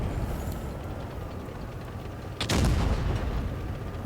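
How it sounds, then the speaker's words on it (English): A tank cannon fires in the video game World of Tanks Blitz, one sharp loud boom with a deep rumbling tail rising over a steady engine and battle drone, with no talking. "He's firing at an XM right there."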